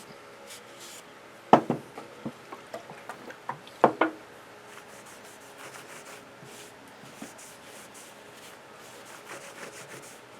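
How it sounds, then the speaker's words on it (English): A cloth rag dampened with tung oil is rubbed across a wooden pliers stand in a workshop, producing soft, close rubbing strokes with a few sharper scuffs and knocks early on, then quieter wiping. "fold up a rag here, dampen it with the tung oil,"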